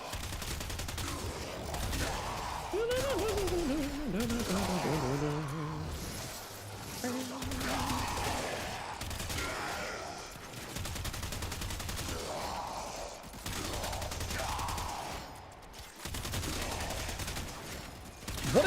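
Gunfire in the Warframe shooter game, bursts of rapid shots and crackling blasts running throughout at moderate loudness, with someone talking over much of it.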